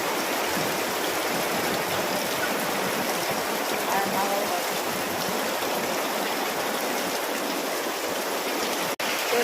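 Rainwater streams heavily into a kitchen during a downpour, a loud unbroken rushing roar with one sharp knock near the end.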